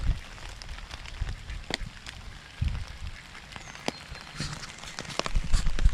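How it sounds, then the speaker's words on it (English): Heavy rain falls outdoors beside a pond along a disused railway track, a steady patter with scattered sharper drops and footstep-like thuds close by. "It's raining hard."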